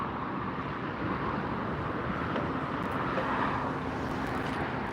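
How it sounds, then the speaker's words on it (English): A Qantas Airbus A380 taxis at LAX airport, heard as a steady broadband jet rumble and whine at moderate distance, continuous and unchanging throughout with some wind noise. "Qantas A380 taxiing out for a north side departure."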